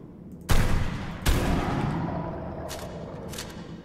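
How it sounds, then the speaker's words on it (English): Shotgun blasts fired while fishing in the video game ARK Ascended: two loud, close booming shots about a second apart, each trailing off, followed by fainter sharp reports. "Fishing with shotguns."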